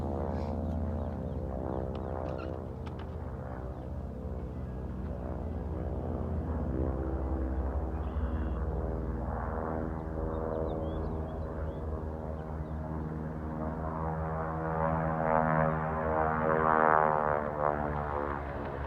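Propeller airplanes fly over a farm at an air show, giving a continuous droning engine hum that holds for the whole stretch and swells slightly louder toward the end.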